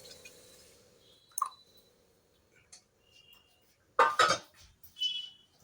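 A utensil stirs mango pulp in a hot pan with sporadic light clicks and knocks, then a few loud, close scraping bursts near the end, separated by quiet stretches.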